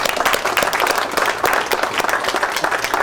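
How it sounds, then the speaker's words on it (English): Loud, close applause from an event audience honoring an underwriter, with many sharp, overlapping claps forming a steady, crackling wash that lasts the full three seconds. "Please stand up so we can give you a round of applause."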